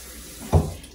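Water runs from a sink tap while a brush is rinsed, a steady close gush with a brief louder splash in the middle of the short burst.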